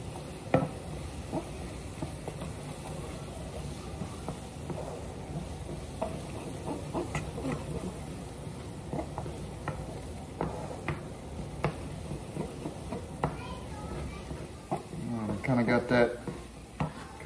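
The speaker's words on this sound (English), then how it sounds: "And then I kind of just start stirring that in." Flour being stirred into a sizzling pan, a soft continuous frying hiss with repeated spoon scrapes and taps. A voice talks over parts of it, and a louder clatter comes near the end.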